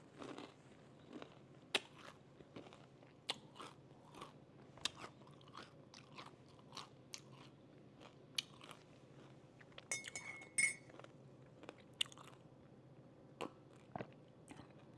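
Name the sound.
crunchy eating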